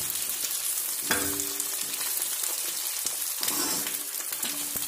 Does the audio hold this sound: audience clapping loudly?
no